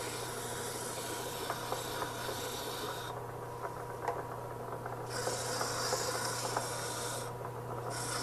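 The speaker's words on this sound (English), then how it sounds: "now here's the 50 grit for the little torn pieces again" 50-grit sandpaper rasps steadily against spinning wood on a lathe during a wood-turning job, a continuous close scratchy hiss over a low, even motor hum, briefly brightening and easing in two stretches.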